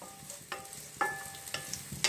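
A spoon stirs finely chopped onion frying in a pan, giving a low sizzle under a few quick, light clinks and scrapes at roughly half-second intervals.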